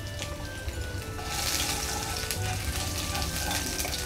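Finely chopped garlic, seven or eight cloves, frying in hot oil in a home kitchen, a steady close sizzle and crackle that swells slightly and holds throughout without talk.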